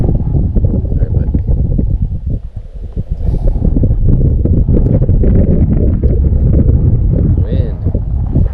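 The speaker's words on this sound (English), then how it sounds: "Wind." Strong steady wind buffets the microphone on a kayak out on the water in the Texas Hill Country, a loud continuous low roar with rustling gusts, dipping briefly before surging again.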